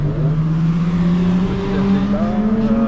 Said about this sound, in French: Il y a pas mal de bagnoles qui tournent.